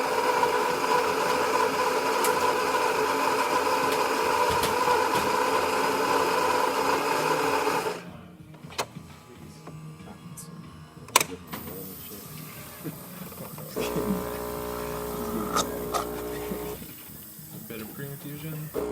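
A Saeco espresso machine fitted with a new grinder and new pump pulls a shot: a loud steady hum and hiss that stops abruptly, then quieter clicks and a low buzzing pump drone.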